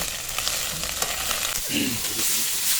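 Chopped banana stem mixed with ground spice paste sizzles and fries in a pan, with a steady hiss and some scraping as it is stirred, and no one speaks.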